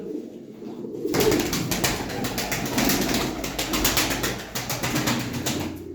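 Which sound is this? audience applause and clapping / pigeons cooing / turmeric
pigeons cooing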